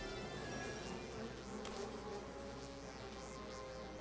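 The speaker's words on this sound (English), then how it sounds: "Let's not forget to send a bee." A bee in the video game Popup Dungeon gives a continuous wavering insect buzz over a steady background hum, fairly faint and unbroken throughout.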